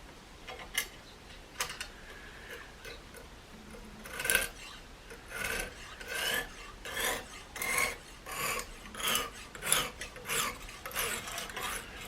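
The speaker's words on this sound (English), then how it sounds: "as I actually try to use the hone, I think it's actually bending the blade slightly" Honing a thin SOG Terminus knife blade, a series of quiet rasping strokes. The strokes come in a steady rhythm, close and faint, with short pauses between them.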